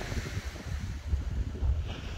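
Offshore wind buffeting the microphone on a Dorset beach at Southbourne, a steady low rumble with gusty swells and surf noise, no talking.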